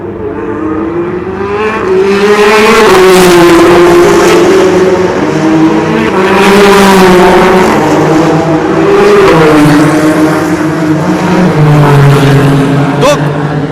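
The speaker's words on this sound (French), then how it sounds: "La voiture au ralenti rentre au stand." Race car at the 2016 Le Mans 24 Hours idling slowly into the pits, a steady loud engine drone with shifting pitch throughout, close by and continuous, with a commentator's voice running over it.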